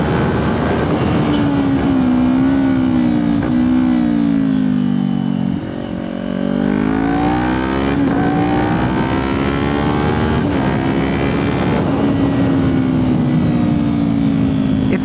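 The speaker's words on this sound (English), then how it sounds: "Feels like it's easier to blip the throttle too for some reason." Car engine revving hard and close with throttle blips while downshifting, its pitch rising and falling across repeated gear changes, with a brief dip in the middle, loud and continuous with no talking.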